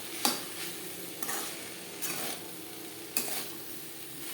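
Teasel gourd and grated coconut are stirred in a kadai during a vegetarian fry made without garlic or onion, with four distinct spatula scrapes over a steady soft sizzle.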